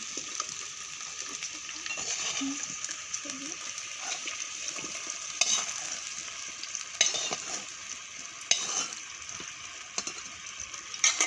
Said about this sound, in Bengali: ভালো করে ওল দিয়ে আলু দিয়ে মাংসটাকে কষিয়ে নিয়েছি